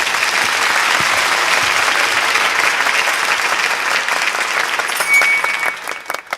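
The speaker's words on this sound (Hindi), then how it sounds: "तालियां।" A crowd at a Hindi poetry recital applauds loudly and steadily, a thick wash of clapping that thins and fades in the last second.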